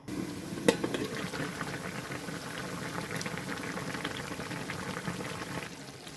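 Hilsa fish curry with taro stolons simmering covered on medium heat, a steady low bubbling and boil held at an even level throughout, with one brief sharp knock near the start.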